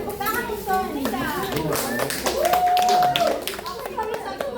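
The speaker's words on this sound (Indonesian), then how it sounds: "Tepuk tangan untuk Nida." A classroom of students claps for a classmate named Nida after her presentation, uneven hand clapping mixed with children's voices and chatter throughout.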